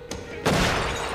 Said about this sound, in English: Our silence had been shattered by the gunshot.